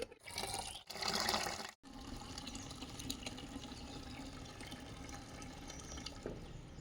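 Water poured onto a potted lemon plant on a rooftop gives a continuous soft splashing and trickling with a few brief gaps near the start, heard up close with no talk.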